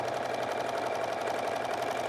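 A sewing machine stitches fabric for a gnome-hat bottle topper, running in one steady, even whir throughout at moderate volume.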